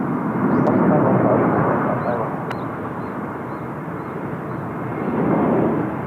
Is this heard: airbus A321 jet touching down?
yes